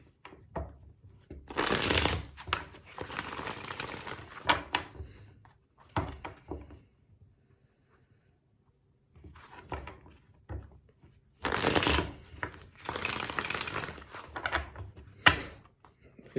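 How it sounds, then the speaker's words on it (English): Tarot cards being shuffled up close in two main bursts of riffling, separated by quieter taps and handling sounds. "Let's get 2 more shuffles for Aries."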